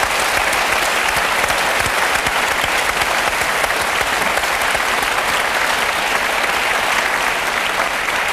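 Sustained audience applause fills a Paris television music show studio, a dense, steady wash of many hands clapping at even loudness throughout with no pauses.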